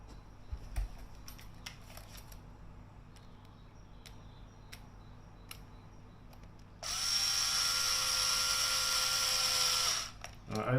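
A small electric driver whirs steadily for about three seconds, driving a screw that holds the steering servo in an Arrma 3s BLX RC car, close and fairly loud after faint ticks and handling noises.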